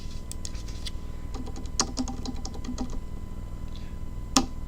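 Someone types a username on a computer keyboard at an online shop sign-in: irregular bursts of crisp, close key clicks with short pauses and one sharper final keystroke, no talking.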